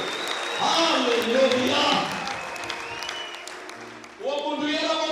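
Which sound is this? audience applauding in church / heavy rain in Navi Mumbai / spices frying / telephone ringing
audience applauding in church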